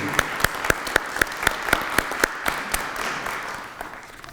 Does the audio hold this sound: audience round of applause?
yes